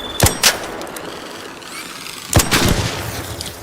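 Two sharp gunshots ring out in ARC Raiders, the first pair cracking close together near the start, then another loud burst with a trailing echo after a quiet gap, no voices over them.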